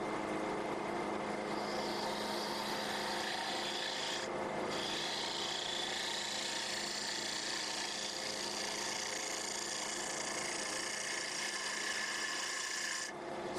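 A woodturning gouge cuts across wood fibers at a steep angle on a spinning lathe, producing a steady, close, continuous rasping shear with two brief dips in the middle and near the end.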